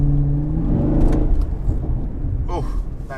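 A Chevrolet sports car's exhaust rumbles and burbles up close, with a brief crackling burst in the middle and a steady, loud engine drone throughout.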